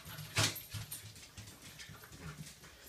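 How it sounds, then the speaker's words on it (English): Dogs roughhousing indoors, with a sharp yip near the start followed by soft whimpers and scuffling, faint and close. "The dogs are fighting."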